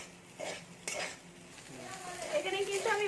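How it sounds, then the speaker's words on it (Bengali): Leftover rice tossed with turmeric-coloured vegetables in a pan, stirred with a metal utensil that scrapes and clinks against the pan over a soft sizzle, fairly quiet and close. "দিয়ে এবার এটাকে একটু নাড়তে থাকতে হবে।"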